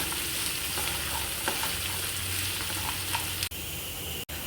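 Onion and coconut pieces fry in hot oil with a steady, continuous sizzle, close and fairly loud, with a couple of sharp clicks near the end and no talking.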